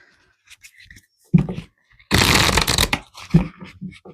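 Tarot cards scattered on a table gathered up by hand: a burst of dense shuffling and sliding card noise lasting about a second, flanked by a few softer rustles and light taps, close and fairly loud.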